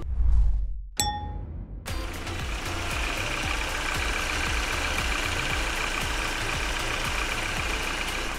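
The bonnet of a used Genesis G80 2.5 turbo AWD sedan is opened: a sharp metallic clang with a ringing tone, followed by the steady, close hum of the idling engine bay.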